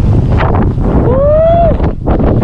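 Strong wind roars and buffets the microphone on the white-sand beach of Dinadiawan in Dipaculao, Aurora, loud and steady throughout, with a voice heard briefly over the gusts.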